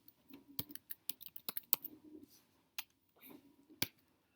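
Keys tapped on a computer keyboard while coding, in short irregular bursts of crisp clicks with a few louder single presses and brief pauses, close and fairly quiet.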